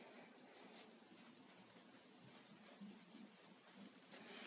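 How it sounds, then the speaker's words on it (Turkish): Marker or pen scratching across a board while a chemistry lesson on chemical equilibrium is written, with steady continuous stroking and brief squeaks, close and fairly quiet, no talking. "Şuraya o yüzden kocaman bir yıldız çiziyorum."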